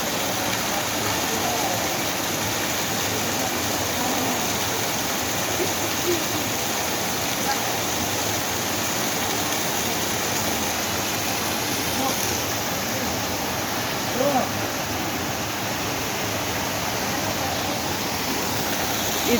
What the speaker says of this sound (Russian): И там уже водопад водопадище.